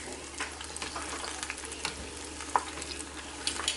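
Apple pie egg rolls frying in hot oil make a continuous crackling sizzle with scattered pops and bubbling bursts, close and moderately loud, with no voices.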